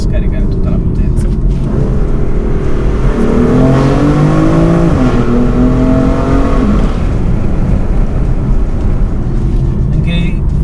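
A BMW M4 accelerating hard on the road, its engine note rising through the gears in loud sweeps heard from inside the cabin, with steady road and wind roar and people talking.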